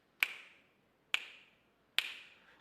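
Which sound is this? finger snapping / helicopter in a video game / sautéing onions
finger snapping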